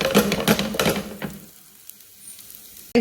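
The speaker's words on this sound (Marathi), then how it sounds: "पण आपण हे शॅलो फ्राय केले" Chapati rolls shallow frying in a pan give a brief crackling sizzle that fades after about a second and a half into near silence.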